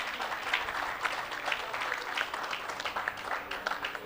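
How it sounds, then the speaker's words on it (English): Fairly faint applause from a dinner audience at a health sciences research day award ceremony, individual claps audible in a loose, uneven rhythm. "So you can give them a round of applause in absentia"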